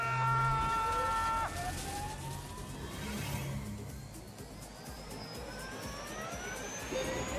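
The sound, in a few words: electric car launching, from The Grand Tour Game video game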